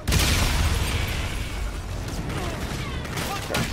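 A grenade explodes in the Call of Duty Infinite Warfare video game, a loud close boom at the start that decays into a long rumbling, crackling tail with scattered debris and pops.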